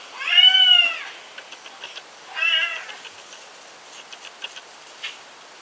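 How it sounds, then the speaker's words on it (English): A cat shut behind a door meows loudly twice, a long drawn-out yowl followed by a shorter one, with faint light ticking and tapping sounds in between and afterward. "Cat's yelling at me because she thinks she's trapped, but if she can get her butt out of the way, I could open the door."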